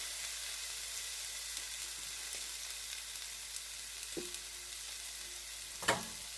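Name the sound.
onions, green and red peppers frying in oil in non-stick pan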